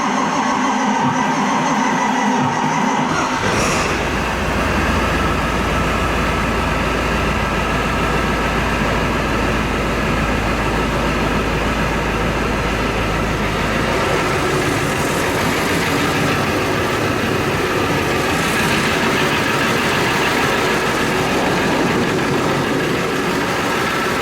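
Ford F350 farm truck with a 7.3 Powerstroke diesel starting after a few quiet seconds, then idling loudly and steadily inside a shop, a dense rumbling clatter that stays constant to the end.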